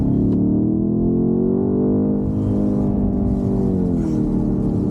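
A BMW M5 Touring wagon pulls hard in third gear, its engine note a loud, steady rising drone heard from inside the cabin, climbing in pitch and then easing slightly near the end, with no talking.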